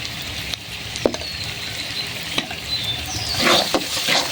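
Spices stir-fry in a pan for a poultry meat curry, a soft steady sizzle broken by a few sharp scraping clicks of a spatula, with the frying hiss growing busier toward the end.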